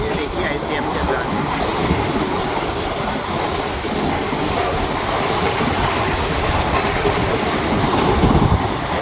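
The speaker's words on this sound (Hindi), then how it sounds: "Bhavnagar Secunderabad special weekly train है भाई" Bhavnagar–Secunderabad special weekly train rolling past with a steady, loud rumble and wheel clatter for the whole stretch, rising slightly near the end, with no voices over it.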